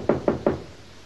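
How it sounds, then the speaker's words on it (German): Three evenly spaced knocks rap on a door in a 1933 German film, crisp and close, each fading quickly into a quiet room hum. "klopfen Sie doch an."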